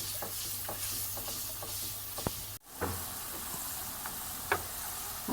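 Ingredients for dal chana roast in a pan with a quiet, steady sizzle broken by scraping stirs and a few sharp ladle taps, close and low in level.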